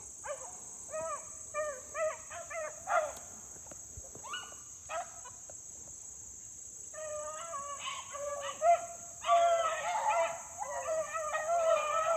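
Hunting dogs bay and bark in repeated bursts at a middle distance on a foggy morning outdoors, clustering into a louder, denser chorus toward the end, over a steady high insect drone.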